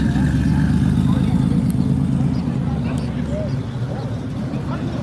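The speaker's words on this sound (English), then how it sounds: "There's a Porsche for you." A Porsche drives past at a Las Vegas cars-and-coffee meet, its steady low engine rumble close and loud for several seconds and easing off slightly toward the end, with crowd voices mixed in.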